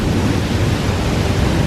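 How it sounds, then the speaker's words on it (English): Heavy thunderstorm at night during a power outage, with torrential rain and loud rolling thunder forming a dense, continuous roar close by throughout. "And that thunder is so loud."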